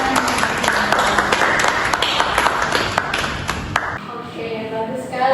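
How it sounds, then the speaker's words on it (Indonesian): A classroom of students claps together for about four seconds, a dense burst of hand claps that stops abruptly before a voice starts speaking. "Beri aplaus untuk kalian semua."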